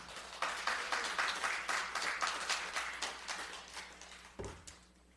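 Church congregation clapping during a Sunday service, a quiet, fairly distant rhythmic clap in unison that gradually fades, with a low hum beneath and a brief thump near the end.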